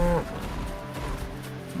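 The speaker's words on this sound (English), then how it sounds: "Moo cows! Look at this." Cattle mooing in the video game Wuthering Waves, a drawn-out low moo at the start followed by a steady bed of in-game ambience, fairly loud and with no talk over it.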